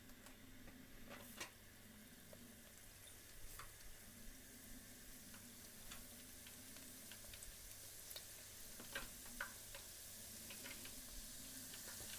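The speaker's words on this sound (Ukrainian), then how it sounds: "Олія розігрілася, тепер викладаємо наші пончики." Fluffy yeast-dough doughnuts fry in hot oil over medium heat, giving a steady, close sizzle dotted with small crackles and pops throughout, with no voices.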